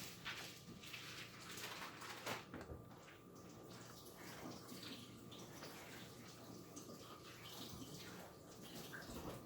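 Running tap water splashes steadily over raw meat being rinsed for barbacoa in a kitchen, a continuous broadband wash with a few brief drips and clunks throughout.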